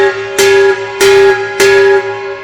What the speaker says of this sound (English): Next up is the gong. The gong is normally made of also green brass.